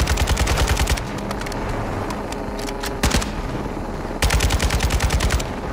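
Automatic weapon fire in Call of Duty Modern Warfare II: a rapid burst, then scattered single shots, and another long burst at the end, loud and close over a rumbling game soundscape.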